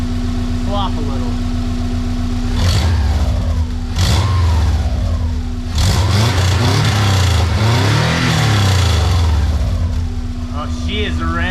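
A Volkswagen Karmann Ghia fitted with a swapped Subaru engine, revving in neutral with loose engine mounts: a close idle punctuated by several sharp throttle blips rising and falling, while someone talks over it.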